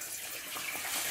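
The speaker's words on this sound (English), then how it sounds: "add some water to your soup." Water poured into a pot of fish soup, a steady splashing pour that runs continuously and alone, growing slightly louder toward the end.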